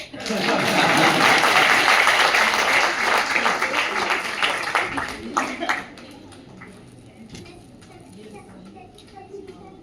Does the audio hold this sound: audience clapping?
yes